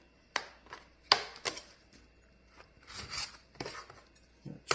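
Paring knife trimming excess fat from a rack of smoked ribs, a handful of sharp cutting and scraping strikes spaced irregularly, close and fairly quiet with soft rubbing between.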